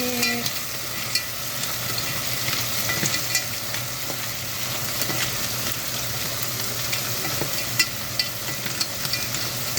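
Clams cook in a pot while being stirred, giving a moderate steady sizzle under soft scrapes and occasional light clicks of a spoon, with no voices.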